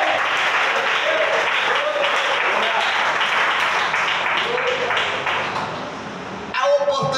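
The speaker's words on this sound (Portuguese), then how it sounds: "Palmas para Jesus nessa noite." A church congregation applauds during an evangelical service, a dense, sustained wash of clapping that thins out near the end before a voice cuts in.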